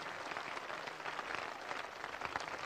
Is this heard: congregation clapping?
yes